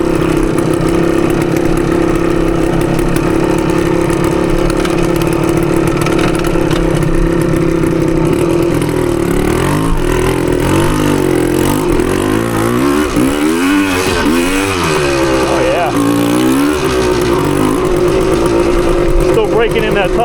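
Engine of a 1980 Suzuki TS185 motorcycle running steadily and loud up close, then revving up and down in several sweeps through the middle of the stretch.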